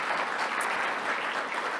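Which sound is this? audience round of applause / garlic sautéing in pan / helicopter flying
audience round of applause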